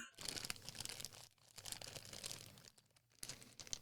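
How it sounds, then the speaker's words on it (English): Close rustling and clattering as dice are rummaged around inside a bag, in bursts with brief pauses. "I'm pulling dice out of a bag."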